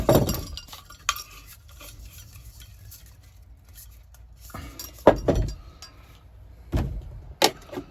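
Metal parts of a camping gas stove being set up on a gas canister clink and clatter in sparse, sharp knocks, with a quiet stretch between the first hits and a cluster of clanks near the end.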